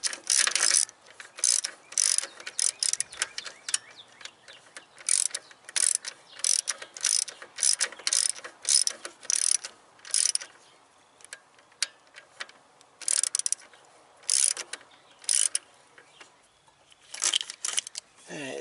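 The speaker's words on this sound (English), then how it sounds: "Alright, so I'm going to tension the belt a little bit. It's 15 millimeter." Ratchet wrench on a 15 mm fitting tensioning the belt on a Jeep water pump, giving close, crisp bursts of rapid clicking in repeated strokes with short pauses between them.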